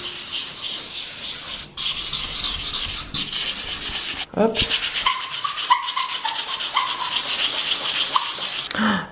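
Rapid back-and-forth scrubbing of a nail buffer sanding a wall, close and continuous with brief pauses; one short spoken word.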